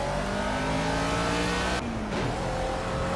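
Old front-wheel-drive car in the racing game Project Cars, its engine droning and revving steadily with harmonic whine, a brief dip then climbing again, loud and continuous with no talking.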